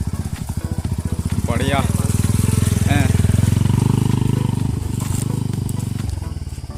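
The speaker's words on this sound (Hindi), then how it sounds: "भैया भी पहुँच गए, देखो कहाँ से, जंगल के बीच से अपना BMW बाइक लेके" A BMW motorcycle arrives along a jungle track, its engine loud and close with a steady low pulsing throb that swells and then eases off, while people talk briefly over it.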